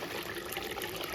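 A small SHYSKY DC50A-1235A 12V 45W brushless speed-adjustable water circulation pump runs steadily, giving a soft continuous hum under trickling, gurgling water, fairly quiet and close.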